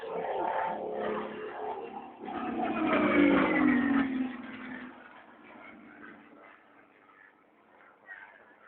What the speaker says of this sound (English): if you're a connoisseur of Rolls-Royce engines, you will detect that this has a somewhat different note to the Merlin engines of the Lancaster